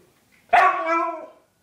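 A Siberian husky lets out a single loud, close bark that stretches into a drawn-out, whining yowl for about a second while it waits for food, with no talk.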